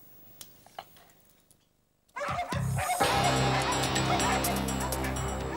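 A huge neglected pack of 334 dogs on a farm in Maßbach, Bad Kissingen district, breaks into loud, overlapping barking and yelping after a quiet opening and keeps up a dense, close chorus.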